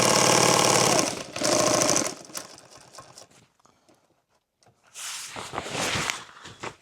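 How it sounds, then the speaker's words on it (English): Sewing machine stitching a hem on an extra-large fabric clothes bag, two loud bursts of rapid mechanical chatter, then quiet handling, then another run of stitching. "edge tape it, and then hem it over the top sew it"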